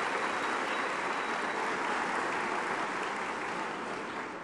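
Sustained applause from an audience at a party group meeting in a parliament hall, a dense, even wash of many hands clapping at moderate distance for several seconds without pause.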